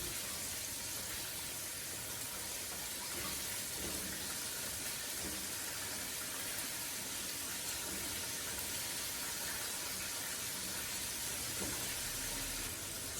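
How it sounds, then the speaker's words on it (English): Chicken wings deep frying in hot oil, a steady, broadband sizzle and hiss that holds constant and close throughout, with no voices over it. "They're actually in deep oil, so you're gonna really cook them for 8 minutes in total."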